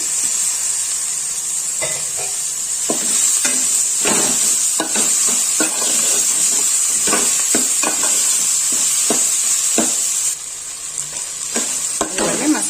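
A spoon stirs tomatoes and spice masala in a hot pan, with a steady loud sizzle and irregular scraping strokes, no voices.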